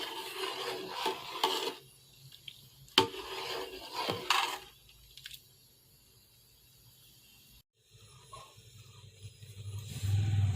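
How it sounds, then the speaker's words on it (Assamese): Black rice kheer with bay leaves and cardamom is stirred in a pot, giving intermittent scraping and rubbing strokes with brief clanks. Quieter gaps fall between the strokes and a soft simmer comes in at the end. "এতিয়া এনেদৰে লৰাই থাকিম।"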